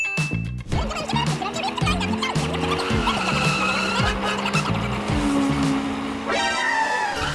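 A cartoon car drives and skids, with a revving engine note that rises and falls in steps, tire squeals and screeching slides, loud and close over a busy soundtrack.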